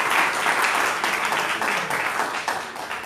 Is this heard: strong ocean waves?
no